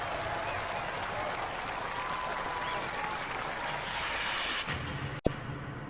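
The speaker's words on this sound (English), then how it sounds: "Ladies and gentlemen, give them a round of applause." A studio audience at a robot combat show applauds the super heavyweight winners, a dense, sustained wash of clapping under faint crowd noise, cut off abruptly near the end by a sharp click and then quiet hum.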